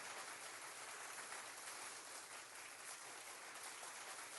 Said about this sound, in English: I got to give that man an applause every time he plays it